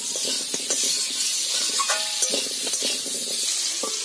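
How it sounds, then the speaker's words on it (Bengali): Turmeric, salt and oil stirred together in a hot pan with a spatula, giving a steady sizzling fry with scraping strokes throughout, close and moderately loud. "এবার খুঁটি দিয়ে নেড়ে করে আমি একসঙ্গে মিশিয়ে নিলাম।"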